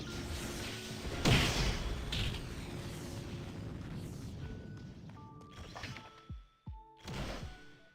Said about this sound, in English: It's gonna just sound like a lot of explosions also.